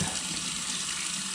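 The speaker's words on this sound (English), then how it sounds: "pour that away and wash it off." Tap water runs steadily into a sink, rinsing etching solution off a freshly etched copper circuit board for a DIY guitar pedal; a continuous, close broadband splash with no talk.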